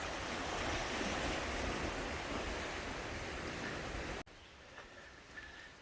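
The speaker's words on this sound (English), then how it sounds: "High water." A stream running high rushes with dense, broadband water noise, steady and fairly close, then cuts abruptly to quieter ambience near the end, with no talk.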